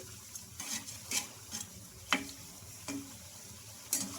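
Punugulu rice fritters made with ration rice frying in oil, turned over and over in the pan, soft sizzling under repeated scraping and stirring clinks spaced about every half second.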